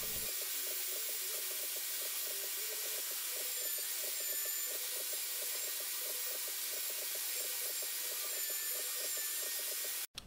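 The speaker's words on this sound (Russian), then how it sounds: "Закрепил ленточную шлифмашину в верстаке и отшлифовал все детали." A belt sander clamped in a workbench sands wooden parts, giving a steady abrasive rubbing whir with a rhythmic pulsing texture, continuous and fairly loud for the whole stretch before stopping abruptly at the end.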